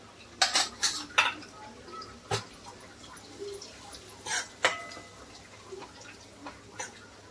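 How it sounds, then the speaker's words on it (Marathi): Utensil scraping and clinking in a pan while chicken samosa filling is mixed with coriander powder and red chili powder; irregular metallic clinks and taps, moderately close, no talk. "चांगलं मिक्स करून घेऊया।"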